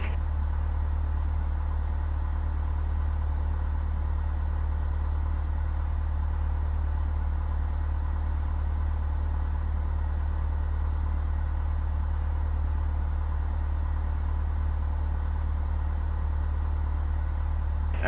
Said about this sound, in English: And also turn the engine off.